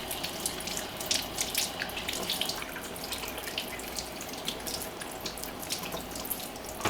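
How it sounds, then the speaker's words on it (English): Potatoes are washed under a running kitchen tap, water splashing steadily and fairly close for several seconds with small spattering bursts as the potatoes are rubbed, no talking. "We're going to go and wash these and cut them up."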